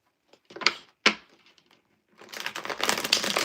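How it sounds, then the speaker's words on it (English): Tarot cards shuffled by hand, with two sharp slaps of the deck followed by a longer, continuous riffling flutter that grows louder toward the end. "We're going to shuffle them real good."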